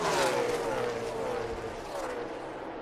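NASCAR Cup Series stock cars roar around Kansas Speedway, engines revving loudly with a falling, sweeping pitch as cars pass down the back straightaway, a commentator talking over the noise.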